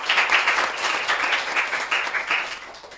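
Steady crowd applause from a studio audience at a talk show on a free nutritious meal program, dense clapping throughout with slight swells.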